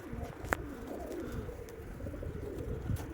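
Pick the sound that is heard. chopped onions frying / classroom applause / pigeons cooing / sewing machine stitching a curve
pigeons cooing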